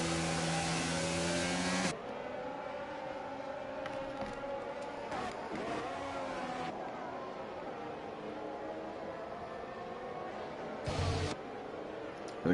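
A train of F1 cars races around the Singapore Grand Prix circuit in the video game F1 22, their engines whining at steady high revs with rising and falling pitch as gears shift, loud and continuous.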